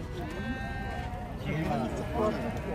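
Young rams bleat repeatedly at a livestock market in Sokuluk, with wavering calls close by amid a busy crowd murmur and people talking.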